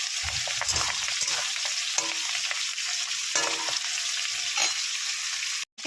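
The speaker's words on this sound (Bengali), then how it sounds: "মাছ ভাজা ভাজা হচ্ছে" Fish frying in a pan makes a dense, steady sizzling hiss up close, with occasional stirring clatter. The sound cuts out briefly near the end.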